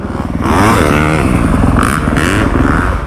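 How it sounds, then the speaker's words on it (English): A dirt bike on a supercross track revs loudly and close by, with a rising and falling engine note and some scraping clatter from the ride. "First drop on the new bike"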